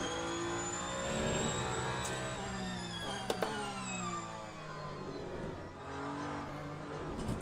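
Ferrari 499P hypercar engine in the Le Mans Ultimate racing game, a continuous high-pitched whine that rises and falls with gear changes, steady and moderately loud, with no talk.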